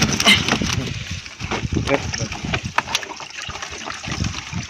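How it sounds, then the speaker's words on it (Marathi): Water splashing and sloshing as fish are rinsed by hand at a river, with irregular wet swishes and drips, voices faintly in the background. "आता पाण्यामध्ये धुवायचं काम चालू आहे"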